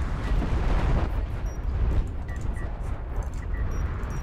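A Starship Barrage strike explodes in a strategy video game, a dense sustained roar of overlapping booms and rumbling blasts with faint high chimes scattered on top.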